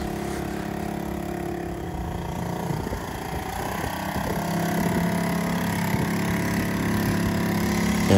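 A carbureted boat engine cranks, catches and settles into a steady running drone, growing slightly louder toward the end, with no talking.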